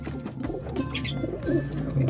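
A pigeon coos softly nearby, low throaty calls repeating over a faint background murmur.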